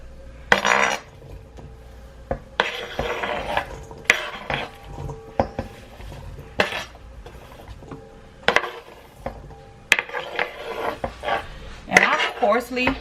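Oxtails for Jamaican curry being placed into a cooking pot, with intermittent clinks and scraping of utensils against the pot, several separate bursts close by, and a person speaking in between.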